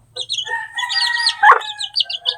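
Backyard poultry coop with chickens: a rooster crows loudly and close while hens cluck and chirp around it, a short burst of busy fowl calls with no talking.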